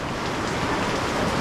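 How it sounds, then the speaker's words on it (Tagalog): Rain pours down at a market stall, giving a dense, steady hiss of drops on surfaces with no pauses during the short stretch. "umuulan pala dito"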